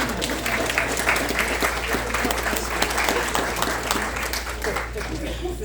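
Crowd at a town meeting clapping in a sustained, even burst of applause lasting several seconds, with a low steady hum from the room beneath it.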